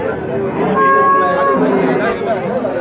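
A cow lows amid the murmur of a crowded livestock market, with people talking in the background throughout.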